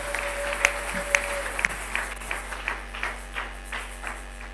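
A church congregation in Kinshasa applauds the Lord, irregular sharp claps from several people scattered across the whole moment over a low steady hum.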